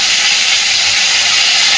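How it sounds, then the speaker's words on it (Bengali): Vinegar hits a hot ginger-garlic spice mix in a pan, giving a loud, steady, close hiss of sizzling that fills the whole moment. "ভিনেগারটা কিন্তু আমি কড়াইতে এই মশলার মধ্যে এখনই দিয়েছি"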